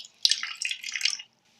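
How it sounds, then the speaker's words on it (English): Hot water runs from a tap in a short close splashing burst of about a second, then stops, alone without talk. "I put hot water on, not cold water."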